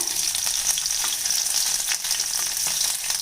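Fennel seeds and crushed garlic cloves tempering in hot groundnut oil for a mushroom curry give a steady, close hiss of sizzling oil with faint stirring, no voices.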